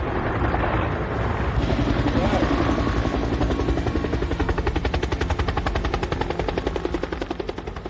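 A firefighting helicopter carrying a large water bucket flies nearby, its rotor beating in a fast, loud, rhythmic chop over a steady engine roar. Someone talks over the noise.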